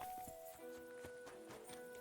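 Steady clip-clop of horse hooves trotting at a brisk rhythm in the video game Kingdom Come: Deliverance II, moderately distant, over a faint tonal background hum.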